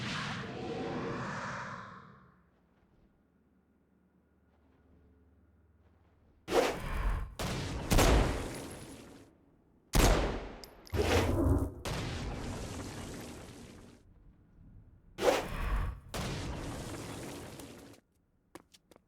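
Gunfire and blasts from the video game Saints Row: Gat out of Hell burst in loud, broadband volleys after a quiet stretch, several separate bursts each lasting a second or two, with a brief whoosh at the start.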